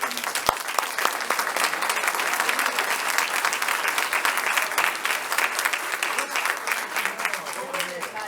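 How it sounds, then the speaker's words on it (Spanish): An audience at the opening panel of a technology education congress in Córdoba breaks into loud, sustained applause, dense clapping that carries steadily from start to finish with a brief voice underneath. "Les damos un fuerte aplauso."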